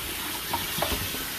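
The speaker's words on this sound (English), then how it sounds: "You want to rinse off your pasta." Tap water runs steadily into a kitchen sink as cooked pasta is rinsed, a soft, continuous hiss with a couple of faint splashes.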